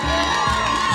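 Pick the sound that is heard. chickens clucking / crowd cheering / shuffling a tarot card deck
crowd cheering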